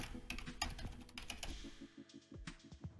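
Clicky keystrokes from a computer keyboard as someone types notes, a rapid irregular run of close, crisp taps for about two seconds, then sparser pecks with short pauses.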